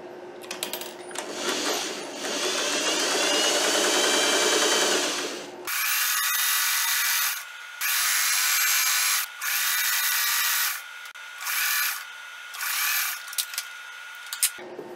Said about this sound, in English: I just did the straight stitch, now I'm going to do some zigzag on the edge.